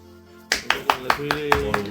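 A few people clapping briefly in a French TV quiz studio, starting after a short quiet pause and running as a quick, light series of evenly spaced claps, close and modest in volume.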